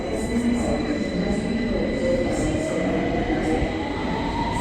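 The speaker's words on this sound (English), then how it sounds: "Now we are waiting for another train as well." A London subway train rumbles loudly and steadily, with metallic rolling noise and faint high squeals over a constant low roar.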